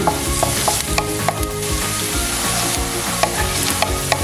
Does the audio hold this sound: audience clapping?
no